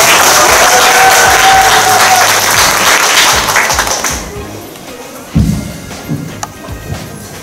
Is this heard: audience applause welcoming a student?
yes